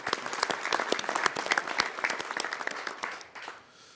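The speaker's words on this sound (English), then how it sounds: "so if we can give them a round of applause" Applause from a press conference audience at the 2015 US Conference of Mayors annual meeting, honoring past presidents; brisk, fairly close claps that thin out and fade near the end.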